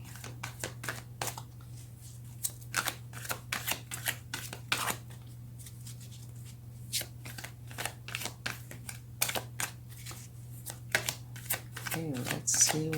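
Tarot and oracle cards being shuffled up close: quick, crisp riffling flutters and soft slaps repeating irregularly over a steady low hum, with a voice talking quietly underneath.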